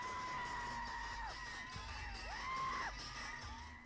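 A distant crowd celebrating in the street after a Nagar Panchayat election nomination in Anagar, with sustained cheering, whoops and high-pitched shouts held at a moderate level.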